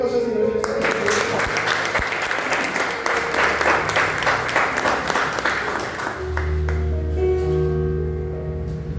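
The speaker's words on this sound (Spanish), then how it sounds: "Denle fuerte aplauso al Señor." Sustained audience applause fills a church service, loud dense clapping from a large congregation that fades out after several seconds, followed by a voice speaking over a low hum.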